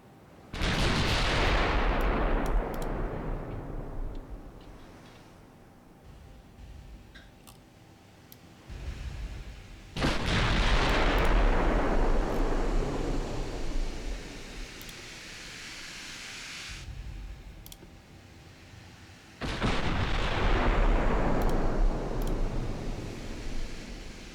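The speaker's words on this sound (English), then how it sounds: "Let's get all your guns firing." Battleship main guns firing in Ultimate Admiral Dreadnoughts during a 1930 British naval campaign, three heavy booming salvos about ten seconds apart, each a loud deep blast rolling off into a long fading rumble.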